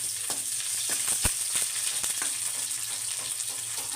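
Nigella seeds (kalonji) hit hot oil in a home kitchen pan while cooking a brahmi leaf stir-fry, giving a steady close hiss of frying with faint crackles and one sharper pop, no talking.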